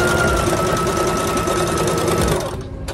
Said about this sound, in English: I'm just sewing it across the neck